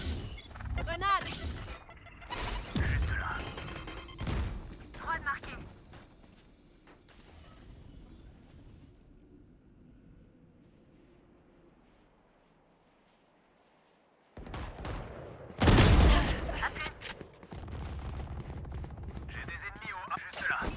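Gunfire and explosive blasts in the video game Valorant, with bursts of shots early, a quiet lull, then a loud close blast and more firing, heard under players talking.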